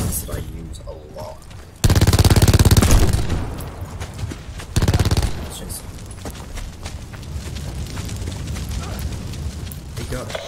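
Rapid automatic gunfire from a gun in the Black Ops 4 Blackout battle royale game rips out in two loud bursts, the first about three seconds long, followed by lighter shots and game noise under a talking voice.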